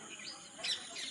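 Parrots call in a guava orchard in rural Uttarakhand, a flock of faint, high chirps and squawks mixed in steady outdoor ambience over about a second.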